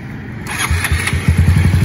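A Honda Titan 160 motorcycle with its original piston revs hard against the stock rev limiter. A loud, close engine note builds, then breaks into rapid, rhythmic stuttering pulses as the ignition cut repeatedly chops the revs.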